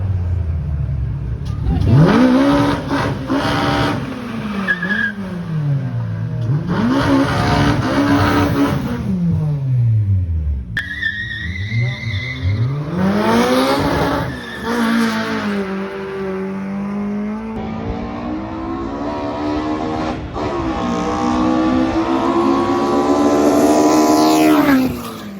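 Drag racing cars at a South African MSA strip roar off the line and accelerate hard, with loud, sustained engine notes climbing through repeated gear-change sweeps, close and continuous.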